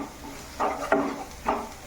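A spoon scrapes through thick tomato curry masala in a pan, two or three short soft stirring strokes under a faint low sizzle.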